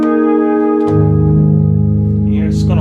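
A restored Moog Memorymoog synthesizer plays a sustained note with a slow attack: a thin tone thickens into a rich, buzzy chord-like drone that swells and holds, loud and close, with a faint voice near the end.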